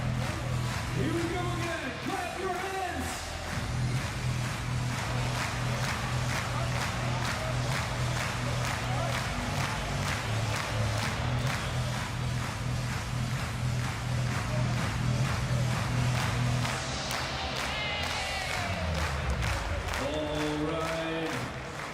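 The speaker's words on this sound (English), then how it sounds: "Clap your hands." Large indoor arena crowd at the Invictus Games 2023 in Düsseldorf keeps up steady, loud rhythmic hand clapping over a thumping music beat, with an announcer speaking briefly near the start and end.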